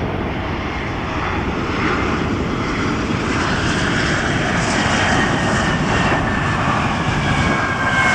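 Airplane landing on a runway at LAX, a loud, steady roar of aircraft engines heard from nearby, continuous and sustained throughout with a broad rushing tone and no talking.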